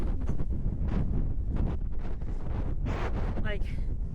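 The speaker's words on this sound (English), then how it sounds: "Would I like to be out with this wind?" Strong gusty wind buffets the microphone on an exposed hillside path during a solo hike, a loud, constant low roar with surging gusts, and brief talk may be faintly mixed in.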